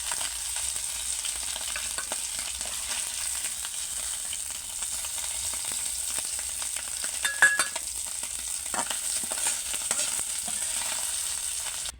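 Puti fish frying in oil in a home kitchen, a steady moderate sizzle with scattered crackles and a few small clinks, no voices.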